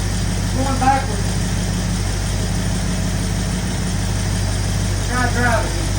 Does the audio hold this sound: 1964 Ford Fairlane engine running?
yes